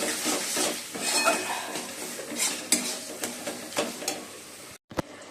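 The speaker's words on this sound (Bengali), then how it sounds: "দুটো কড়াই বসিয়ে দিলাম" Two metal woks being set onto a home stove, with repeated close clanks and scrapes of cookware at irregular intervals, ending in a brief silence and one last sharp knock.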